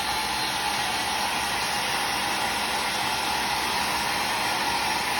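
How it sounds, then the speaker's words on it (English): A hair dryer blows with a steady, loud airy roar and hiss, unchanging throughout, with no other sounds. "Then I go in with the blow dryer."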